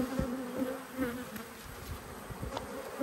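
Italian honey bees with an orangey colour buzz steadily at an open hive during a beekeeping inspection, a close, continuous hum with a few brief louder passes.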